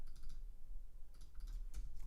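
Code is typed on a computer keyboard in a soft, close, steady patter of keystrokes with a few brief pauses.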